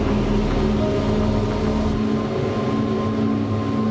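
A KOSHI 51 motor boat runs flat out at about 4,000 RPM and 60 mph, giving a steady loud engine drone mixed with rushing wind and water noise.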